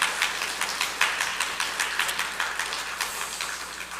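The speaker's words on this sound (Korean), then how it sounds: "축하 박수 하시기 바랍니다." A church congregation applauds during a Sunday morning service, a dense, even patter of many hands clapping at a steady pace, moderately loud and without speech.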